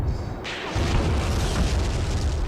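Artillery bombardment in a 1943 Tunisia tank warfare video game at Faid Pass, a deep boom that swells into a sustained rumbling roar, loud and continuous with no talk.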